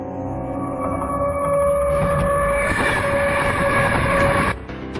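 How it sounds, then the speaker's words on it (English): The Lhasa Express train roars past steadily and loudly at over 110 km/h in eastern China, with a sustained horn-like tone over rumbling, clattering wheels, ending abruptly. "the Lhasa Express pounds its way across industrial eastern China at over 110 kilometers per hour"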